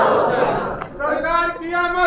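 A large crowd chants religious slogans at a rally, loud massed voices shouting together in a sustained, close roar.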